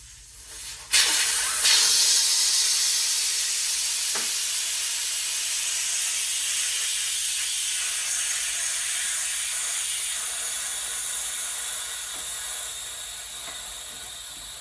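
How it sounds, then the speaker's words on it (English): Air rushes out of a street bike tire after the valve core is pulled: a sudden loud hiss that stays steady and close, fading slowly over more than ten seconds. "the first step is letting the air out of the tire and removing the valve core before you break the bead"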